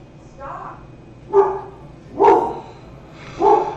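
A pet dog indoors barks about four times in an evenly spaced series, each bark loud and close, building slightly in strength over a quiet room background.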